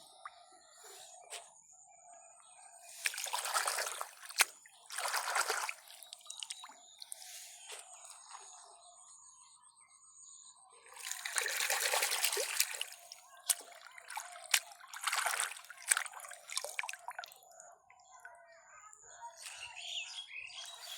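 Fresh leafy greens picked from a riverbank are rinsed in river water outdoors, giving repeated bursts of wet splashing and squishing in irregular clusters, with birds chirping faintly in the background and no talk.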